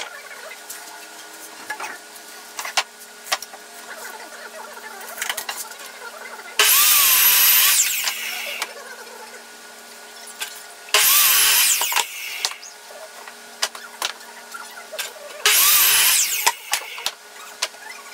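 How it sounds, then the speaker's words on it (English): A power drill bores holes into wooden cornhole boards in three loud, close bursts of a couple of seconds each, separated by quieter workshop handling noise and faint background hum. "And then we will be ready to mark and drill the holes and start assembling."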